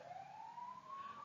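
An emergency vehicle siren wails faintly in the distance outside, a single slowly rising tone heard through quiet surroundings.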